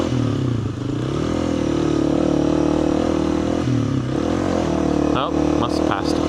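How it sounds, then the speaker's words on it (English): Motorbike engine labouring uphill through deep sand in second gear, a close, loud chugging drone with shifting revs and some rattling clatter, with a voice talking over it. "This is all uphill sand, so we're just tractoring, churning along in second gear."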